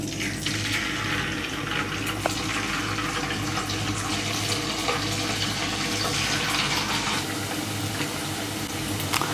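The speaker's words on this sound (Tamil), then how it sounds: "இதை ஆயிலில் போட்டு நம்ம ஃப்ரை பண்ணிக்கலாம்" Chicken pieces frying in hot oil in a pan for dragon chicken, a loud, dense, continuous sizzle and crackle running steadily without pause.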